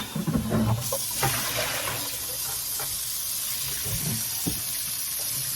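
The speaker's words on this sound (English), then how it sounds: "I use hot water and I rinse it" Hot water runs steadily from a kitchen tap into a sink while a sap collection container is rinsed, a loud continuous hiss and splash with a sharper gush at the start, no voices.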